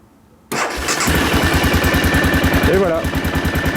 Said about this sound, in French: On laisse le starter à 0 et on va voir si la machine démarre